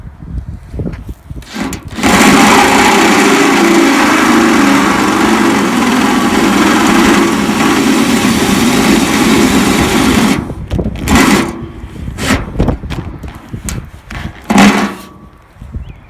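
A power drill with a large bit whines loudly and steadily for several seconds as it bores a hole while installing an onboard air system, then stops, followed by a few short clatters and handling noises.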